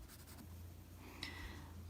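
A pencil shading on paper for a sunflower drawing, producing a soft, steady scratchy rasp that runs continuously at a quiet, close level.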